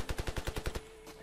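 A burst of automatic gunfire from the video game Ravenfield: about eight rapid, evenly spaced shots that stop abruptly, followed by a faint lingering tone.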